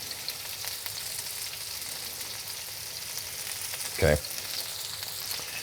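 Shallots sizzle and fry steadily in a HexClad 14-inch pan with a bright, hissing crackle throughout, and a single brief spoken word cuts in near the end.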